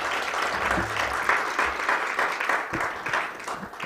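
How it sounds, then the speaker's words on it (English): A conference audience applauds with steady, close, moderately loud clapping that keeps going and thins slightly toward the end, with faint voices underneath. "One more round of applause, please,"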